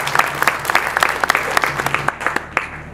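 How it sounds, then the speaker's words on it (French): Audience applause at a university ceremony for the launch of an advanced battery research centre, a steady patter of many hands clapping at moderate distance, continuous for a few seconds with faint voices underneath. "Il y a de quoi vous applaudir, monsieur le recteur, ainsi que les doyens, les ministres en tête pour ces innovations"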